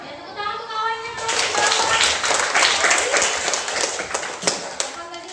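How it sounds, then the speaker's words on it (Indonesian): Schoolchildren in a primary classroom break into a burst of clapping for a classmate, loud and dense for several seconds before thinning out, with some child chatter mixed in. "tepuk tangan untuk kawannya"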